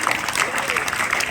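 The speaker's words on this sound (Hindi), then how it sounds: "जोरदार तालियां बजती रहनी चाहिए आपकी तरफ से।" Students clapping at a school award ceremony for Class 10 and 12 pupils, a steady, dense patter of applause that fills the whole stretch, with voices mixed in underneath.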